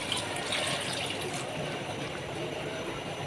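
Water pours steadily into a pot of chicken for tikka biryani, a continuous close splashing gush with no talk over it.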